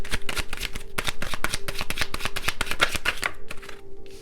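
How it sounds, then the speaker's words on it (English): Tarot cards are shuffled by hand close up, giving a quick, steady run of crisp flicking and snapping clicks that ends with a short pause and a few final taps. "I hope it's not when I'm shuffling these cards."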